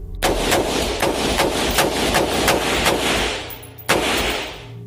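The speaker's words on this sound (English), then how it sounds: "This is what an AR-15 sounds like." AR-15 rifle firing a rapid string of about ten loud, sharp shots at a steady pace, followed by a pause and one last shot near the end, with no talking.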